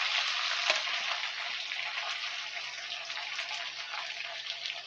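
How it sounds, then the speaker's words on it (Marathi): Spice masala tipped into hot oil for a chicken curry crackles and sizzles loudly up close, a continuous bright frying hiss with a sharp pop near the start, and no talking. "आता पूर्ण मसाला आपण याच्यात टाकून घेऊया"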